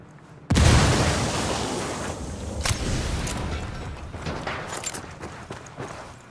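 A frag grenade detonates in the video game Ghost Recon Wildlands: one sudden loud blast after a brief quiet moment, then a long, rumbling decay with a few smaller bangs and thumps trailing off.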